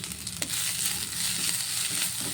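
Spice mixture for mooli paratha frying in a pan on the stove, giving a steady close sizzle with faint stirring scrapes throughout and no talking.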